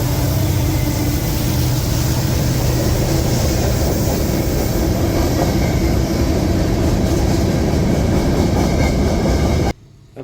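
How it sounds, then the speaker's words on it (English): A CSX M560 freight train led by a BNSF ES44 locomotive rolls past close by, a loud continuous rumble with rhythmic wheel clatter that cuts off abruptly near the end, with no voices. "The first one was CSX M560 with a BNSF ES44 leading as"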